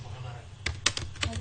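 A journal name is typed on a computer keyboard, a short run of several crisp, close key taps over a steady low hum.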